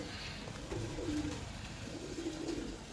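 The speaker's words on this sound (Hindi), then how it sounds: "ये कबूतर कामरान भाई क्या बात है।" Pigeons coo softly in repeated low phrases during a racing pigeon competition, set against steady background noise with no talk.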